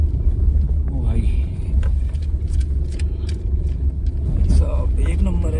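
A car drives along a rough mountain road in Himachal, its low engine rumble steady and close, with occasional jolts and knocks as it lurches. Voices are heard over it.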